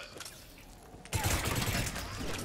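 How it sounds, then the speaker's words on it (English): Mass Effect 3 combat on Insanity difficulty during a missile battery mission: a quiet stretch gives way to a loud, sustained burst of rapid gunfire and impacts that continues to the end. "Nice shot, Garrus."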